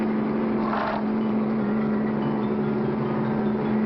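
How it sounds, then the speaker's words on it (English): An armored car's engine hums steadily in a 1959 Clutch Cargo cartoon, a constant loud motor drone with a brief swell near the start, no voices over it. "It's an armored car. It's headed right for the bank."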